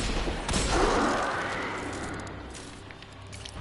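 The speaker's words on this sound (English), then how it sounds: "I really like this pistol." Hand cannon pistol fire in the Destiny 2 video game, a burst of gunfire swelling early and then fading into a lingering rumble of game ambience.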